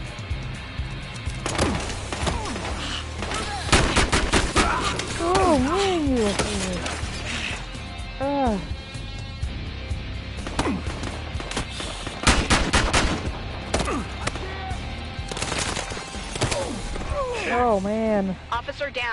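Gunfire in the video game Battlefield Hardline, bursts of rapid shots and single cracks with shattering impacts, loud and close, mixed with game voices and a player talking excitedly over the action.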